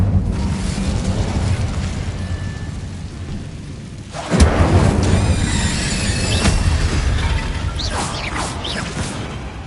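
Bombarda spell explosion in Hogwarts Legacy, a loud sudden blast midway that rumbles and decays with crackling debris, following a quieter ambient stretch.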